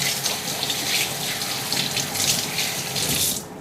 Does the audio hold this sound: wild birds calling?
no